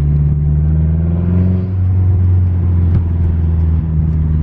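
A Mazda Speed 6 engine fitted with a Corksport blow-off valve rumbles close by, its deep drone rising and falling slightly as it revs, with a short sharp burst near the middle.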